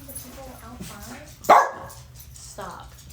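Indoor dogs let out one sharp, loud bark midway, followed by a softer yip, with a voice speaking around them against a quiet background.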